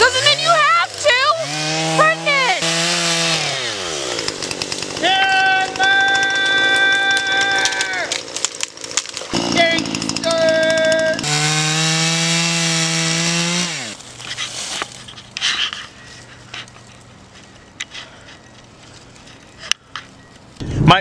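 A chainsaw runs close and loud, its revving pitch rising and falling as it cuts into wood, then drops to a rougher, quieter idle toward the end.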